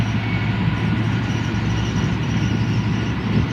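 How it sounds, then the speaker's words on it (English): A container train rolls past at Eastleigh, a loud, steady rumble of engine and wagons that fills the whole stretch close by, with a constant low drone and no talk. "container train."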